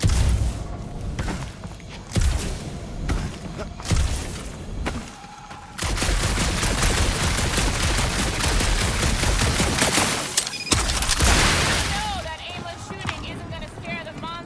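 Sustained gunfire in the Guardians of the Galaxy video game, rapid shots and booms layered over game music and effects, with voices speaking over the action throughout.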